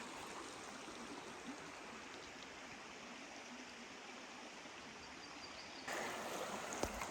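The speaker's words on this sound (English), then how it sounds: "And here's our creek, and there is our view downstream." A backcountry creek flows past a dispersed campsite, a steady broadband rush of running water that swells louder near the end, with no voices.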